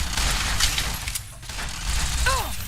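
Automatic gunfire in a video game rattles as a dense, continuous burst that dominates the scene, with a brief lull midway before the shooting resumes, loud and close throughout.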